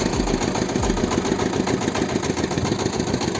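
A Kentavr 160V walk-behind tractor engine running with a potato planter attached, a loud, steady, rapidly chugging engine note held close throughout without any talk.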